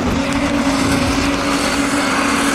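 Street stock race cars run side by side for the lead at Rockhampton Speedway, a loud, steady engine roar with a sustained droning tone and no gaps.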